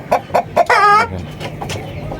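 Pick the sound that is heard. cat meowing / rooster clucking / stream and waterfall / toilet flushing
rooster clucking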